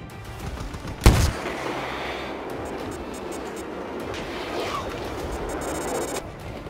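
A recoilless M5 rocket strikes in Battlefield 2042 with one sharp, loud blast, followed by a dense rumble of distant gunfire and battlefield noise that carries on for several seconds.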